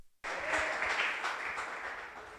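Congregation applause at a church service bursts in after a brief pause, a dense, even roar of many hands clapping that holds steady and slowly eases.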